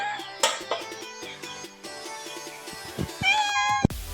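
A cat meows several times up close, with short and drawn-out calls separated by brief pauses, in a rainy Konkan home kitchen.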